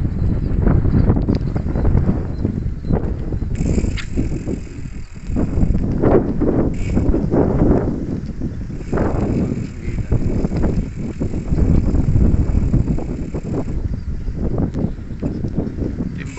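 Steady, loud wind buffets the microphone on a hanging footbridge out in the countryside, a continuous low rumbling roar with gusty surges and no talk.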